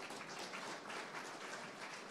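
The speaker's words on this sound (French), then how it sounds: "On peut l'applaudir également." Applause from a conference audience greeting a start-up team as it comes on stage at a pitch marathon, a steady wash of many hands clapping at moderate level throughout, with no voices over it.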